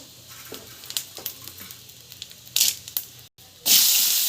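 Mustard seeds, cumin and chana dal crackle and sizzle in hot oil, with several short bursts of spitting and popping, then a loud, steady hiss near the end.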